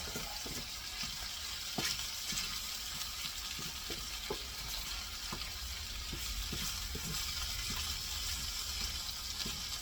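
Flour frying in shortening on the bottom of a pan for a sausage pasta sauce, a steady soft sizzle with occasional small pops and utensil taps, close and continuous without talk.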